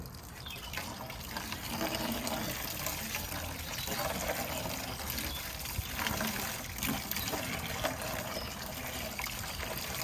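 Warm water streams and trickles steadily through an oiled car air filter, flushing dirt out from the other side; a close, continuous splashing flow fills the whole stretch without speech.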